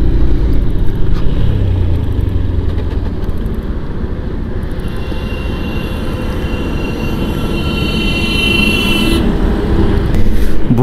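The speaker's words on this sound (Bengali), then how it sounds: "বহুদিন পরে হাই রোডে এরকমভাবে বাইক চালাচ্ছি" Motorcycle ridden along a highway before dawn, giving a steady, loud roar of engine and wind rush that holds unbroken throughout, with no voices.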